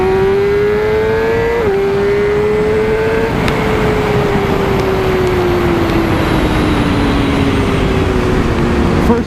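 A BMW S1000RR sport motorcycle on a first-gear throttle roll-on, its engine note climbing steadily and loud at close range, with a rising whine and roar that holds continuously, with no talk over it.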